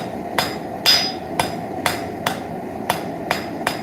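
A hammer striking a railroad spike on an anvil to draw out its end for a leaf form, eight sharp metallic blows at a steady, roughly half-second rhythm, close and ringing.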